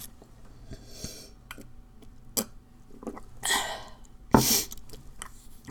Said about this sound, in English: Sorry, I had the sniffles.